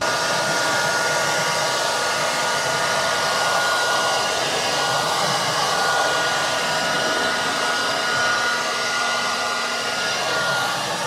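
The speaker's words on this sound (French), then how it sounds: "on va mettre un petit coup de sèche-cheveux et appuyer pour bien que la colle prenne" A hair dryer blows steadily and close by, a continuous even whoosh with no voices, used to set glue on carbon dashboard trim in a Tesla.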